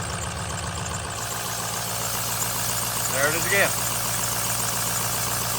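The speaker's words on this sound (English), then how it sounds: "when the VGT solenoid is plugged in, it sounds like someone has their hand over the exhaust" Ford 6.0 diesel idling steadily with the VGT solenoid plugged in, a muffled, choked drone as if the exhaust were blocked, with a faint clunk near the end and someone speaking over it.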